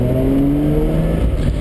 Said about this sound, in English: You can hear that sound through the twin exit exhaust.